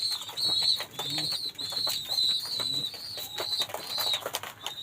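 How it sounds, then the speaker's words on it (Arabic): Pigeons in a loft making repeated close cooing calls and soft rhythmic chirps, with wing flutters and shuffling rustles between them. "بص الذكر بيزق الحمامه ازاي"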